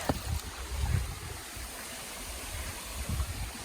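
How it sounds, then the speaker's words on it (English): Water rushing at the top of a waterfall during an outdoor walk to the falls, a steady broadband roar with low gusty rumbles, fairly close and continuous, with no talk. "We're on top of the waterfall right now."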